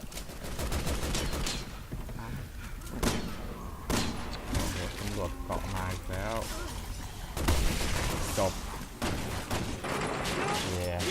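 Gunfire rings out in the video game Resident Evil 6 as bursts of shots and thuds come in clusters against game music, with someone talking excitedly over the action.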